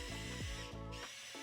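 A blender grinding pine nuts, red pepper and salt for pesto, its motor whirring loud and close, rising in pitch and then settling into a strained, steady drone.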